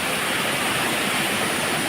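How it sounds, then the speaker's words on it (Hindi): A fast-flowing forest waterfall roars steadily near a Hanuman temple, a dense, loud broadband rush of falling water with no pauses and no voices. "ये झरना जो ऊपर से दिखाई दे रहा था कितना तेज़ चल रहा है"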